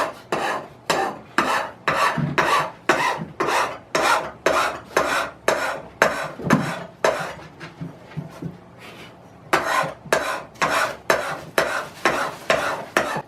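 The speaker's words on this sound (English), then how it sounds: "what I'm going to do real quick is just take a file to it" Metal hand file rasping a ridge off an Ohio Tool Co plane iron, about twenty rhythmic close scraping strokes with a short pause midway.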